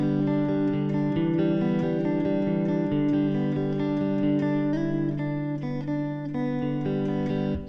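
Guitar plays a variation of a riff, picked arpeggio notes ringing steadily and close, loud and unaccompanied, fading slightly at the end.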